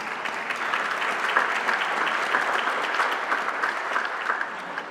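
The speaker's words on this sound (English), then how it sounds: "she deserves a round of applause, I think." An audience at a symposium breaks into sustained applause, a full, even patter of many hands clapping at moderate loudness from start to end, with no talk over it.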